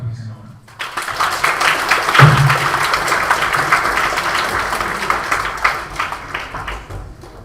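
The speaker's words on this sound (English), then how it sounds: "Clapping is in order." A crowd of delegates at a Model United Nations plenary session applauds steadily for several seconds after a resolution passes, a dense, even patter of many hands that carries on through the whole stretch.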